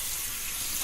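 Tap water runs steadily in a broadband hiss, wetting a puck of Ballenclaw Marauder Bay tallow shaving soap, close and continuous with no talking.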